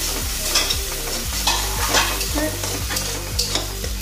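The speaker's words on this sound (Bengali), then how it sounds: "কিন্তু এই মশলাটা কষাই হচ্ছে" Masala for Bengali egg curry fries in a pan while a spoon scrapes and stirs it in regular strokes about every half second; the sizzling is close and loud, with no talk.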